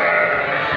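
A ram bleats loudly and close in a pen at a livestock market, one sustained nasal call.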